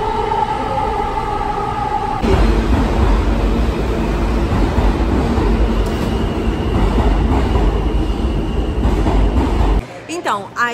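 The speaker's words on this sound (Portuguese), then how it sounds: "aí a gente veio de metrô, passamos pelo Queens" A New York subway train rides through Queens, its loud, steady rumble and clatter running for most of the stretch before abruptly dropping away near the end, with faint voices in the carriage.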